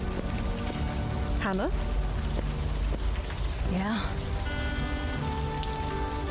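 Steady rain drenching the scene in the adventure game Old Skies, a dense constant hiss filling the background while voices talk over it.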